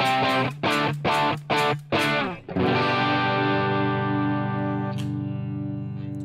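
Distorted electric guitar through Helix amp and cab simulation, a burst of choppy rhythmic chords followed by a long ringing sustained chord that slowly decays, loud and alone.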